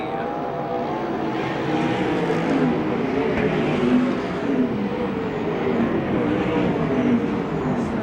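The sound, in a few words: sprint car racing on a track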